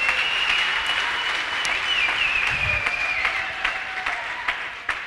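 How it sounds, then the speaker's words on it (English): A church congregation claps and applauds together after a sermon on fatherhood, a steady, dense wash of hands that fills the room at moderate loudness for several seconds. "Give him a clap, someone."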